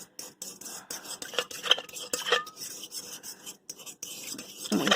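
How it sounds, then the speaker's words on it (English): A spoon stirs a yeast mixture in a bowl for dinner rolls, making close, steady scraping and clinking strokes in an uneven rhythm with brief pauses, quiet, with no talking. "we're just going to give it a stir around"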